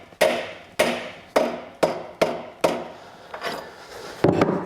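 Sharp repeated taps on a bicycle QD wheel hub part, about seven crisp impacts each with a short ringing decay, close and loud with no voices.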